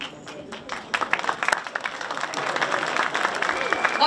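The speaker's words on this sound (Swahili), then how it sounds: "Makofi jamani" An audience claps at a live church gathering, with the applause building from scattered claps into steady, dense clapping that carries through to the end. Voices from the crowd mix in with it.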